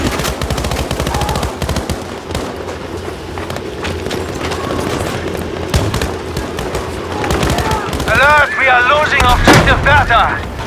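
Dense Battlefield 5 gunfire, rapid machine-gun bursts and booming blasts crowding one another throughout, loud and near, with voices speaking over the battle.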